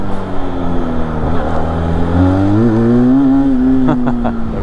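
A 2021 Benelli 502c twin-cylinder motorcycle revving hard during a wheelie, the engine note climbing and holding high before easing, loud and close with wind noise.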